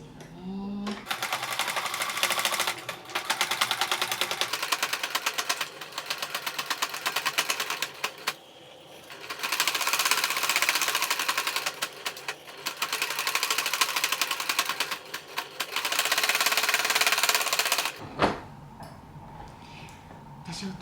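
A home sewing machine stitching bias tape around small fabric scrap pieces, running in rapid clattering bursts with short pauses between runs, close and fairly loud, ending with a brief click as it stops.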